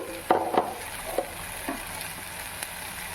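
Tomato and sprouted-bean curry cooking in a pan, with a soft steady sizzle and a few sharp spoon scrapes and clinks against the pan as it is stirred.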